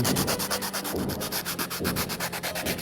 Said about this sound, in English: get some sandpaper and get that whole little block and sand it to the line